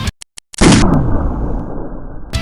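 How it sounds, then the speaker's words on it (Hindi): Gunfire at a Myanmar street protest against the coup, fired at unarmed people. A few sharp bursts crack out in quick succession, then one loud blast whose rumble rings out for about two seconds. "निहत्थे लोगों पर दागी जा रही हैं गोलियां।"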